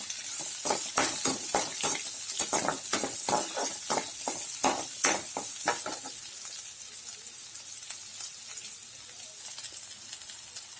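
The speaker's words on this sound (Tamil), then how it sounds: "வெங்காயம், வரமிளகா, கருவேப்பிலையெல்லாம் நல்லா வதங்கி வரட்டும்" Onion, dried red chili and curry leaves sauté in hot oil, a steady sizzle broken by repeated scraping stirs and light clinks of a utensil against the pan, close and fairly quiet, easing off toward the end.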